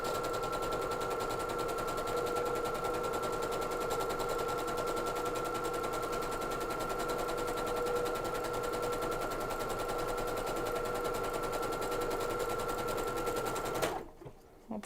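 A sewing machine runs an overcast stitch with an overcast foot, humming and clattering in a fast, even, continuous rhythm up close for nearly the whole stretch before stopping abruptly at the end.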